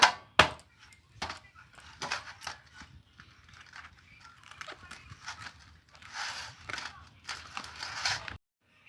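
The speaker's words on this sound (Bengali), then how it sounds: "পেছনটাকে একটু বাড়ি মেরে মেরে খুলে নেব, তাতে কি হয় তাড়াতাড়ি করে খুলে যায়।" A ripe palm fruit is struck on its back to split it open, giving a series of sharp irregular knocks and thuds at close range, with soft rustling and handling noise between the hits.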